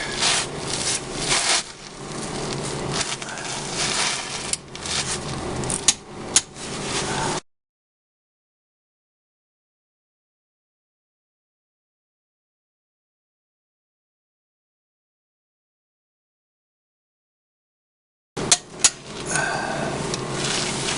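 Bolts tightened with a torque wrench on the front differential of a 1996 Jeep Cherokee XJ, close scraping and ratcheting sounds with sharp clicks, then a long silent gap before the work resumes.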